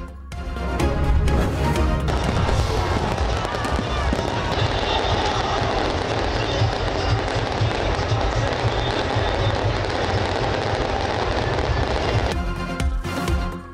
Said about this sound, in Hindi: कराची, लाहौर, इस्लामाबाद समेत मुल्क भर में जश्न आज़ादी पर आतिशबाजी का शानदार मुजाहिरा।